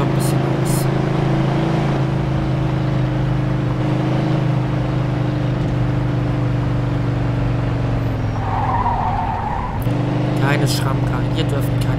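A car is driven in the video game Mafia 2, its engine a steady, mid-loud droning hum with shifts in pitch and brief scraping bursts near the end, under a voice talking.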